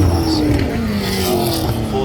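Race cars circling a racetrack, with a 2001 AU Falcon driven ahead of four machines, make a loud, steady engine drone with whining tones that rise and fall throughout.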